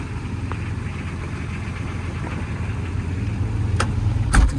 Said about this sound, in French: On a démarré le 4x4